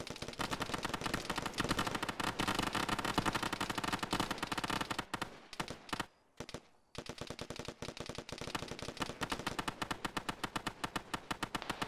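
Dense, sustained automatic gunfire from a firefight in the military video game Arma, loud and continuous with rapid overlapping bursts, a brief lull partway through, then resuming heavy fire.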